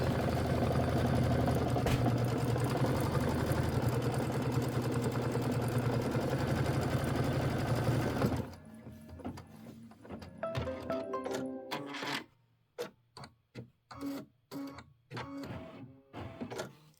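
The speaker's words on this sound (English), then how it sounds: "this is the placement stitch for the snowman face" A Kimberbell embroidery machine runs a placement stitch for a snowman face on a decorative hot pad, a steady loud mechanical whirr for about eight seconds, then quieter intermittent stitching bursts and clicks with short pauses between them.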